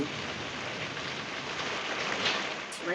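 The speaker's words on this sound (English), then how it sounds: "It's raining." Steady rain falls as a continuous, fairly soft hiss with no clear drops standing out, heard alone without talk.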